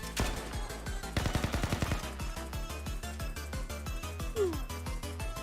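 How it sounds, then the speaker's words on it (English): Bursts of rapid video game gunfire over a rhythmic music track, with a dense volley early on followed by scattered shots at a moderate distance. "I could hear gunfire outside just now."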